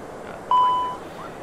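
A single electronic cockpit alarm tone from an Airbus A320 in the Prepar3D flight simulator sounds once, clear and steady for under half a second before fading, over a faint background hum.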